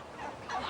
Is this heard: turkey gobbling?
yes